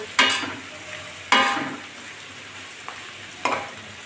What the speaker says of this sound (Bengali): কিশমিশগুলো দিয়ে দিচ্ছি। ভেজে রাখা ডিমগুলো দিয়ে দিচ্ছি, একসঙ্গে মিশিয়ে নিচ্ছি।